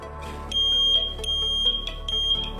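Homemade automatic earthquake alarm built with enamelled wire sounds a piercing electronic beeping, steady and loud with several short pulses over a constant tone, close by with no talking.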